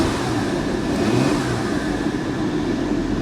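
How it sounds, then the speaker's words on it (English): A steady, loud Porsche 911 Carrera engine hums at raised revs in a brief continuous burst, heard up close with no talking. "Give her a quick rev."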